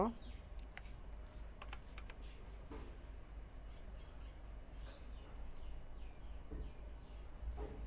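Light clicks of typing on a computer keyboard, short irregular bursts of keystrokes at close range over a faint background hum.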